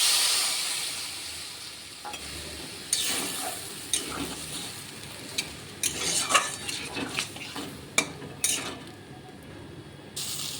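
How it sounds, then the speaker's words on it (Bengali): Poppy seed paste being stirred in a pan for aloo dherosh posto, with a utensil clinking and scraping against the pan in short irregular bursts over a soft steady hiss of cooking. "এখন আমি একটু নেড়ে চেড়ে নেব পোস্তটা"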